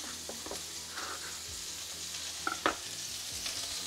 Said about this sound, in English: that can all be added to the pan with the onions